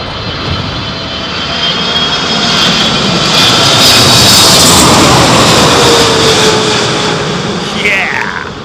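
A jet airliner lands at Heathrow Airport in stormy wind during Storm Gerrit. A loud, broad engine roar swells as it draws near, then fades slightly as it passes, with wind buffeting throughout.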